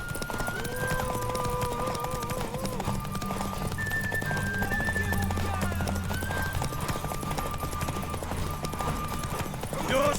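A horse in the video game The Witcher 3 trots with steady clip-clop hoofbeats and lets out neighs and whinnies, loud and close, over a continuous layer of game music and ambience.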